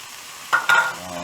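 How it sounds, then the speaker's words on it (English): A sudden hiss and crackle as three chopped onions hit hot oil, followed by a softer steady sizzle close by. "I've got 3 onions here chopped, and I'm frying them in the same oil"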